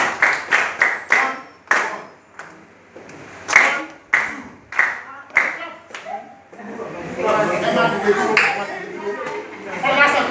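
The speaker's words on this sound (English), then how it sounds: "You only clap 1 and count 2." A class of students claps a counted rhythm in a music lesson on time values and rests, sharp separate claps falling in a steady pulse with gaps for the counted beats, then merging into looser, busier clapping and voices near the end.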